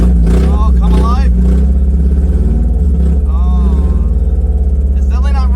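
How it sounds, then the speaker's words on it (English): A 1994 Mazda Miata, parked for 11 years, runs rough on only some cylinders, a loud, close, lumpy low rumble that pulses unevenly while someone talks over it. "Oh, it's definitely not running on all of them. They're coming around though. It's idling."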